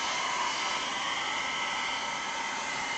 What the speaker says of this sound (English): hear me over the hairdryer, or is my camera hopefully muffling it?